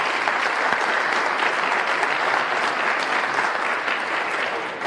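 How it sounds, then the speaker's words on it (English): A large crowd at a bridge building competition gives SAICE a loud, sustained round of applause, a thick continuous roar of clapping that dips a little at the close. "can we please just give SAICE a big round of applause?"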